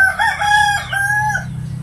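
A rooster crows close by, a long wavering cock-a-doodle-doo in two drawn-out phrases, with faint clucking from other hens underneath.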